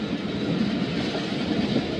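The Karachi Express passenger train runs along the tracks while overtaking the 7 Up Tezgam, giving a steady low rumble with a rhythmic wheel clatter heard from on board, close and continuous.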